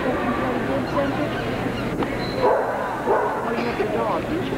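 Alaskan Malamute dogs give barks and yips, with a whimper or two, under steady background noise and people talking nearby.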